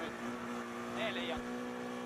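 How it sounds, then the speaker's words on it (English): A Skoda rally car engine holds a steady high drone at full revs out in the Irish countryside, a continuous buzzing tone with slight shifts in pitch, and speech runs underneath. "The Skoda engine screaming in the Irish countryside"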